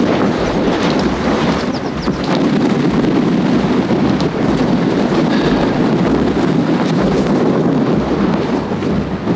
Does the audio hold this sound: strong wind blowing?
yes